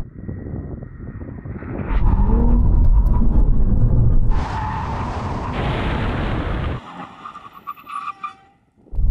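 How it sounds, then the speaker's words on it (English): Two sports cars, a BMW M4 CSL and an Alfa Romeo Giulia GTA, brake hard from 100 mph, giving a loud, close roar and rumble with tire noise that swells, holds for several seconds, then cuts away abruptly. "Now you have a brake test from 100 miles an hour."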